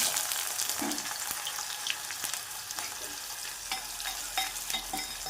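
Spices and vertically sliced onion roast in oil over medium heat, a soft steady sizzle broken by occasional stirring scrapes and small pops, fairly quiet and close.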